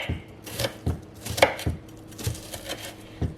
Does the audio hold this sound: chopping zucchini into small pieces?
yes